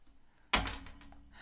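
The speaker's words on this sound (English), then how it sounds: "imagine the thing I just threw on the desk" An object thrown onto a desk lands with a single sharp, close thunk, followed by a short, fading rattle over quiet room background.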